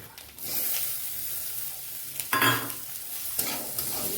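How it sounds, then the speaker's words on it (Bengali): Fried eggplant tossed with neem leaves in a pan for neem begun bhaja sizzles steadily up close, with a louder burst of frying and a few spatula scrapes as it is stirred. "এটা আর একবার ভালো করে ভেজে নেবো"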